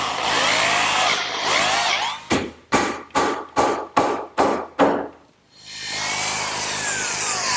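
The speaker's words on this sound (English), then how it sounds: "I'm just going to drill a hole down through the top and pin it with a dowel" A drill bores a hole down through wood to take a dowel pin, a loud steady grinding whir that breaks for a run of seven sharp, evenly spaced knocks, then spins up again.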